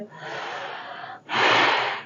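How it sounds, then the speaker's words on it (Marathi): Breathing during an abdominal exercise: a long, soft inhalation followed by a brief pause and then a stronger, louder breath, heard close and alone. "चला श्वास घेतोय"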